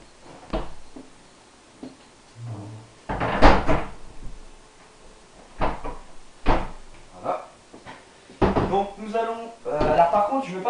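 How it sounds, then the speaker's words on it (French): Window shutters are closed by hand in a room, several separate knocks and wooden thuds with scraping at irregular intervals, close and fairly loud, with someone speaking between them. "Je vais fermer les volets et on va faire le test."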